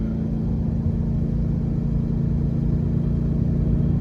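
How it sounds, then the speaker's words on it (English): A 2019 BMW M850i engine drones with a deep, steady rumble, held at a constant high pitch throughout, loud and close without any speech. "And you can hear by how hot she's revving"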